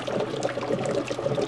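Water circulating and bubbling through a 130-volt hydrogen generator cell powered from 120 V AC house current, a steady close gurgle of small bubbles and trickling liquid with no pauses.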